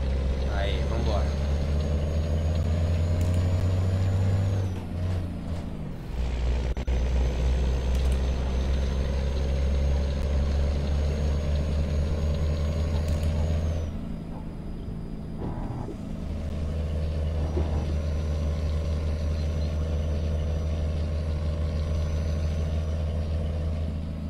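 Heavy diesel truck engine rumble from Euro Truck Simulator 2, a deep steady low drone that dips briefly during gear changes, continuous and prominent.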